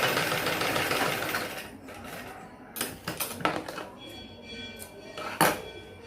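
An electric sewing machine stitches a blouse neck piece in a steady mechanical whir that runs for several seconds, then breaks into short bursts of stitching with small clicks and knocks.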